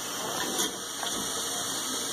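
Water running steadily in, a continuous close hissing gush with a faint bubbling texture and no pauses, heard alone without voices.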